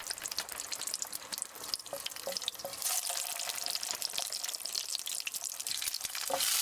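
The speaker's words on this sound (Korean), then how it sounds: "남은 기름이 아까워 냉동치킨 너깃을 더 튀기기 위해서였는데" Frozen chicken nuggets frying in leftover cooking oil, a dense, steady crackling sizzle with scattered pops that grows slightly louder toward the end, with no voices.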